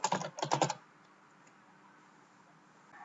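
Quick bursts of clicky typing on a computer keyboard, close and distinct, stopping after under a second and leaving quiet room tone.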